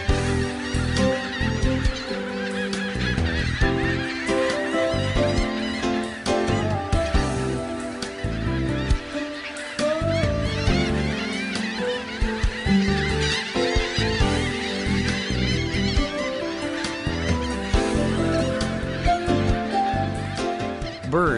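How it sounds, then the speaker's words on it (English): Birds call over the sea at sunset, with goose-like honking and squawking cries repeating loudly and continuously over a dense, busy background. "Birds make their final dives of the day in search of food."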